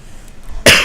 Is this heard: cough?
yes